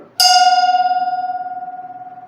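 A drinking glass is struck once in a physics demonstration of how sound is produced, giving a bright clear ring that sustains and slowly fades with a gentle pulsing shimmer, alone and close.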